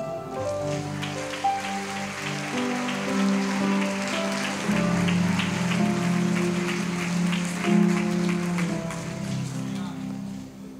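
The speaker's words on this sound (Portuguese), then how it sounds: "A igreja aplaude Jesus." A church congregation claps during a Portuguese-language service, a soft, sustained patter of many hands over a held musical backing that thickens midway, with no talking on top.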